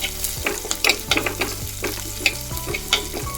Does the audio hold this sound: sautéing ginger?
yes